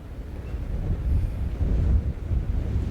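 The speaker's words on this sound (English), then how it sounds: "The wind and the rain and the waves coming in." Strong wind buffets the microphone on the eroding British coastline as waves surge in, a deep, continuous roar that swells and eases without pause and no one speaking.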